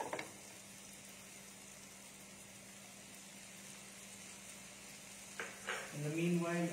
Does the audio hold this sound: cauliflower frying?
yes